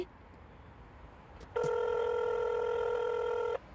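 A single electronic telephone ring, a steady buzzing tone lasting about two seconds, after a quiet click, close and clear.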